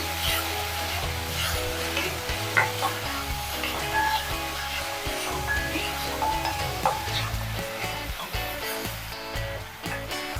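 Chopped green chillies stirred and fried in a pan for dhaba-style aloo paratha filling, with steady sizzling and scraping stir strokes, close and fairly loud, over a continuous tonal background that sounds like music.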